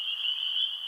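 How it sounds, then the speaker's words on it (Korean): Frogs call at dusk by a pond along a darkening forest path, a steady, shrill, high-pitched trilling chorus that holds loud and unbroken throughout. "어둑어둑해진 숲길 사이로 요란한 개구리의 울음소리가 들려왔지요"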